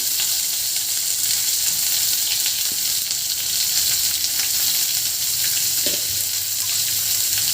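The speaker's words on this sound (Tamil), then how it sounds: "2 பெரிய வெங்காயம் போட்டுக்கிட்டேன்." Two large onions frying in hot oil after mustard seeds have popped, a loud, steady, close-up sizzle and crackle filling the whole stretch, with a faint stir or two and no talking.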